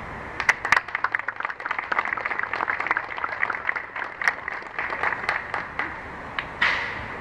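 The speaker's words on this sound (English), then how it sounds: "I think he deserves a great round of applause." Crowd applause at a building dedication ceremony honoring a chief, scattered sharp claps rattling steadily for several seconds at moderate distance, fairly soft, with no talking.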